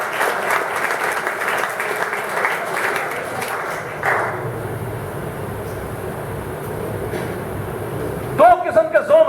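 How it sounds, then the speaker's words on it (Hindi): An audience applauds at a motivational talk for students, a broad wash of clapping that fades out midway into a low rumble, with a voice speaking near the end. "तालियां बजाओ, तालियां बजाओ।"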